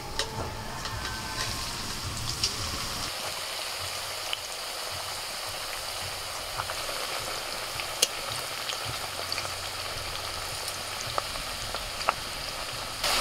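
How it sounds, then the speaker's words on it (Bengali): Potato slices for homemade chips fry in hot oil at medium heat, a dense continuous bubbling sizzle like steady rain, with occasional small pops and faint clicks throughout. "তেল গরম হয়ে গেছে, এবার একটা একটা করে আলু তেলের মধ্যে ছেড়ে দিচ্ছি।"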